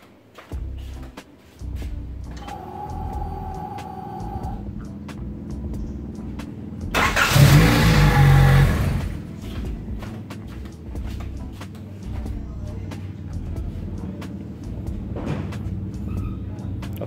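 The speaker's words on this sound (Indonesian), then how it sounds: "Oke, kita lanjut starter sekali lagi" A Honda Civic Ferio engine, worked on at home during a power steering fluid change, cranks and starts in a loud burst, then settles into a steady running hum with faint background voices.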